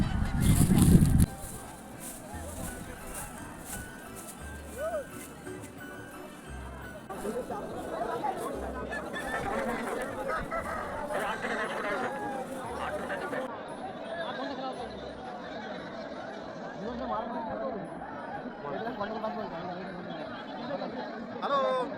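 A busy cockfighting ground packed with people, stalls and roosters brought to fight gives off continuous crowd chatter with nearby voices and occasional fowl calls, opening with a loud burst.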